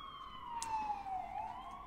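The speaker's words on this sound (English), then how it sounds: "the sirens in the background are coming through." A police siren wails in the distance, its tone sliding downward and then rising again, steady and moderately faint against low background noise.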